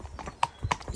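Horse hooves clip-clopping on a hard surface, a quick run of sharp knocks in an uneven walking rhythm, close and moderately loud, with no talk.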